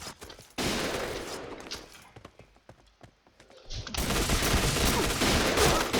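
Gunfire in the shooter game Point Blank, rapid bursts of close shots, then a quieter pause with scattered reports before heavy firing resumes loudly.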